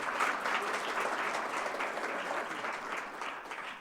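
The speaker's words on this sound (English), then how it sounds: "Can you give them some applause?" An audience gives a steady round of applause, a dense, even wash of clapping that holds for a few seconds at moderate distance and fades slightly at the end.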